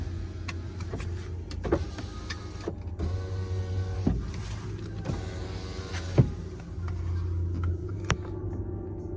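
Power windows in a Volkswagen Passat B7 2.0 TDI run in repeated whirring motor strokes, each ending in a small thunk, over a low interior hum with faint clicks.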